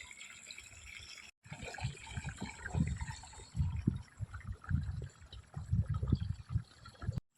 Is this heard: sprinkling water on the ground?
yes